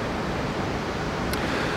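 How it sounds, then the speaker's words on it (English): A small river waterfall gives off a steady, dense, broadband rush of falling water, close and constant throughout the short stretch, with no voices. "watch this delightful little waterfall"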